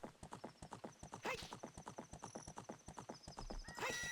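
Steady hoofbeat clip-clop of a horse being ridden in the Nintendo 64 game The Legend of Zelda: Ocarina of Time, a regular galloping rhythm with occasional whinnies and game chimes over it, fairly close and clear.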